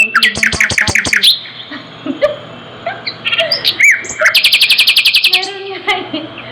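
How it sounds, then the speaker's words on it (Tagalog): Several birds chirp and tweet in quick repeated bursts, some close and bright, others fainter, with a brief rapid trill near the end, heard alone with no talking. "maingay din background mo. Ha, may ibon ata din."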